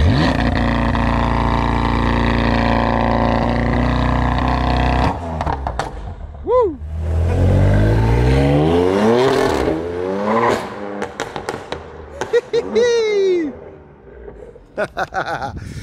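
A tuned BMW M3 with an aggressive overrun map roars under load, then lifts off and crackles with a string of sharp exhaust pops and bangs as revs fall, loud and close, mixed with passing engine swells.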